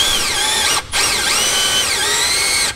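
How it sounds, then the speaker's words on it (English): Step drill bit boring through the plastic of a RAM truck grille for an LED emblem install, a loud, steady high-pitched whine of the power drill with one brief pause before drilling resumes, close and without talk. "There we go with our step bit."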